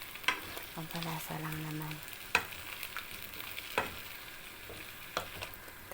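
Shrimp paste (alamang) fries in a pan with a soft, steady sizzle, punctuated by a few sharp utensil clicks as it is stirred; a brief voice is heard over it.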